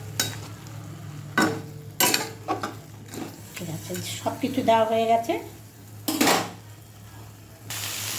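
Amaranth greens fry with crab in a pan, with a spatula clattering and scraping in bursts over a gentle sizzle while someone speaks briefly.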